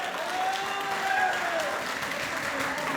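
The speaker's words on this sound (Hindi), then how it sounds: "लड़के भी भरपूर तालियां बजाएं उनके लिए।" Audience at a university poetry mushaira breaks into applause, a broad wash of clapping with faint voices and whistle-like tones mixed in, steady for about three seconds.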